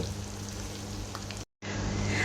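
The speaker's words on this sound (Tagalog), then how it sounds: "Naluluto na yung ating garlic dito. Tapos pritong-prito na siya guys." Garlic fries in a pan with a steady, close sizzle and crackle that cuts out for a moment, then resumes just as strongly, with no voices.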